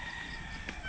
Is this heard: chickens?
yes